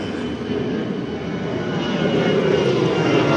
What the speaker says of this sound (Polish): No i samolot startuje jeden za drugim.